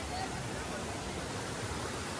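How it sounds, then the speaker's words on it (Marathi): Steady broadband rush of a waterfall in a village in Belgaum, Karnataka, heard as an even, continuous wash of falling water with no talk over it. "एक वॉटरफॉल आहे ते तुम्हाला दाखवतो."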